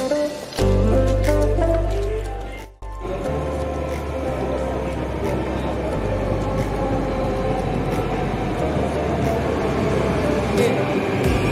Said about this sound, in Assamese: আহি গ'ল মেট্ৰ', এতিয়া যাওঁ আমি কাশ্মীৰী গেট।